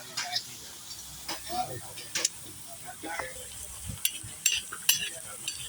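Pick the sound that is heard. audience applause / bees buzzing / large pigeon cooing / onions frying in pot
onions frying in pot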